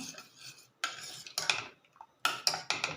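A spoon clinks and scrapes against a bowl in short, crisp bursts as fresh cream is stirred into a bread dessert mixture, close and fairly quiet with brief pauses between strokes.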